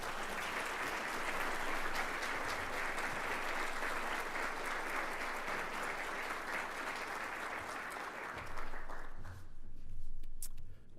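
A luncheon audience at Duke Law's 2016 scholarship event gives sustained, dense applause for about nine seconds to welcome a dean, then the clapping fades into a few scattered claps.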